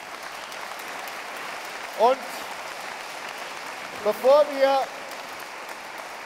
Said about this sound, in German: Der hat jetzt mal einen Applaus verdient, weil er da ist.